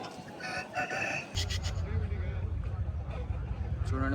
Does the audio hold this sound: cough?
no